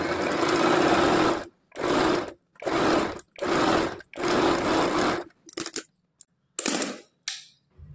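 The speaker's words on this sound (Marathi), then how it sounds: "परत त्यावरती एक डबल स्टिच टाकायची." A sewing machine stitches a double row of stitches on a boatneck blouse, loud and close, running in several sustained bursts with short pauses, then a few brief stop-start spurts.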